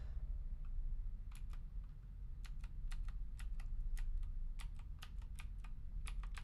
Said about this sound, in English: Literally just going through every button on my keyboard.